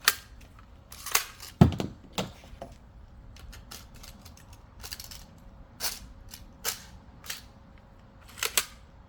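A new FLEX framing nailer fires nails as a series of sharp, loud percussive bangs at irregular intervals, with quieter mechanical clicks between them and no talking.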